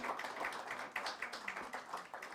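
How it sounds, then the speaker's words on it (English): Soft, faint clapping from a small audience at a book launch, a brief scattered patter of hands heard from some distance. "And a round of applause for those excellent stories that have been captured"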